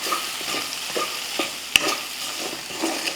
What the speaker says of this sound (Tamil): நல்லா ஒரு நிமிஷத்துக்கு நல்லா கலந்து விடுவோம்.